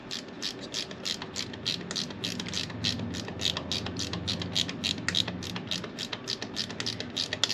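A ratchet tightening a bolt on a KTM 890 motorcycle, producing rapid rhythmic clicking bursts in quick repeated strokes, close and clear with no talking.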